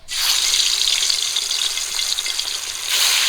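Big pieces of grass carp fish frying in hot oil, a loud, steady, close crackling sizzle that runs unbroken from start to finish.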